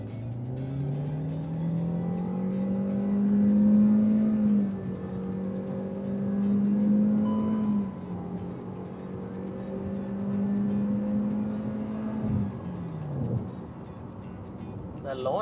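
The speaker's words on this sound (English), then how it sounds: "Maybe I'll stop here and quickly do a 0 to 100 test." A Hyundai i20 hatchback with a 1-liter engine and CVT launching for a 0 to 100 run, engine drone rising smoothly and holding steady pitch without gear shifts, heard from inside the cabin with someone speaking briefly.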